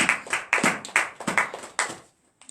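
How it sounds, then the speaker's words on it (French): A church congregation at a morning prayer service in Benin claps in rhythmic, uneven bursts of acclamation, about eight sharp strokes close by and loud, then stops briefly before one soft final clap. "Donnons l'acclamation à l'Éternel des armées"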